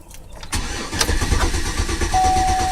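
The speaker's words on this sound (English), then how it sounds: "Here's a couple examples you can hear when the key starts." A 2006 Chevy Suburban's 5.3L V8 cranks sluggishly with a dragging starter rhythm before catching and settling into a steady, close idle; no talking.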